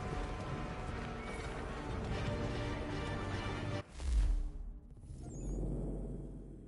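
Horses in the video game Assassin's Creed III, with hoofbeats and snorting under a busy game soundscape, then a sharp whoosh and a short neigh near the end.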